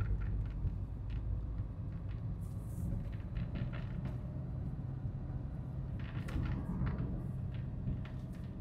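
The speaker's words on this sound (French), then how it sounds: "C'est vrai qu'elle roule vachement bien cette bagnole depuis que je lui ai remis un filtre à gasoil neuf." A diesel car that has just had a new fuel filter fitted, heard from inside the cabin while driving on the road, giving a steady low rumble of engine and road noise throughout with faint intermittent ticks and rattles.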